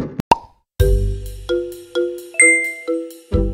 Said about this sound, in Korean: 전화가 왔네요.